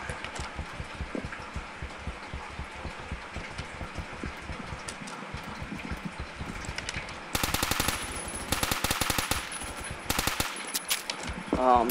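Automatic gunfire in the first-person shooter Phantom Forces rattles in fast rapid bursts, growing louder and denser in the second half, with faint background game noise between bursts.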